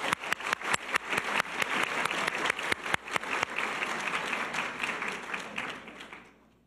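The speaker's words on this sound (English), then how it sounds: "Round of applause for everybody." An audience at a college opening-day gathering breaks into applause, with loud individual claps standing out at first before the sound settles into a dense, steady patter that fades away at the end.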